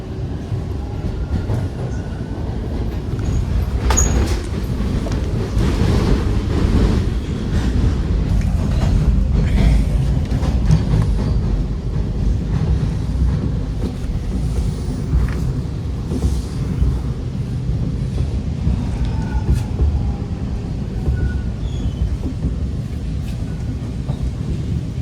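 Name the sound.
Toronto subway train arriving at Kennedy Station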